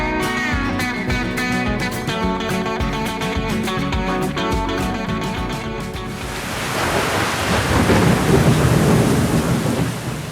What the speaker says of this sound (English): It actually started torrential downpouring here.